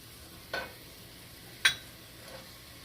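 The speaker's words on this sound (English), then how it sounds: "And I'm going to stir my tomatoes in with my onions and garlic" Tomatoes are stirred into onions and garlic frying in a pot, giving a low steady sizzle with two brief scrapes of the spoon, quiet and close with no voices.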